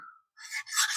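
A knife blade is drawn across an 800 grit sharpening stone in two quick, close, faint rasping strokes, the second longer than the first.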